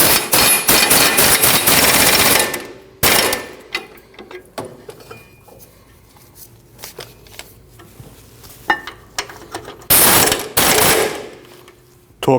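A power tool drives in the brake caliper bracket bolts on the rear brakes of a Nissan NV2500 van. Two loud rattling bursts of a few seconds each are separated by quieter clicks and clanks of handling.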